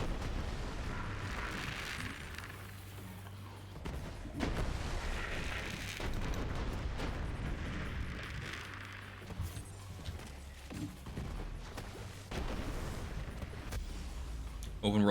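Diablo 4 Army of the Dead and Corpse Explosion skills fire in a steady stream of booming, rumbling blasts and crunchy impacts, a dense layer of game noise playing continuously.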